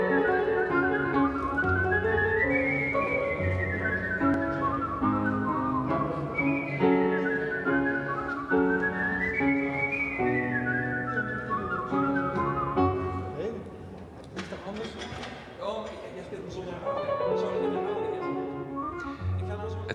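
A professional whistler whistles a lilting melody with rising and falling phrases, clear and close, over soft instrumental backing with a brief dip midway.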